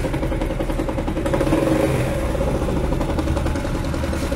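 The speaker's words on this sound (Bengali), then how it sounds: "ইঞ্জিন সাউন্ড কন্ডিশন খুবই ভালো" A reconditioned Japanese Honda CD 80 cc motorcycle engine idles steadily nearby, a low, even throbbing putter that holds constant throughout with no revving.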